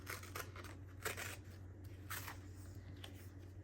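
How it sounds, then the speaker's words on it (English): Paper being torn by hand, a Dollar Tree item folded and ripped in half, comes through as several quiet, crisp tearing bursts close to the microphone, with no talking. "I'm going to just rip it in half or tear it."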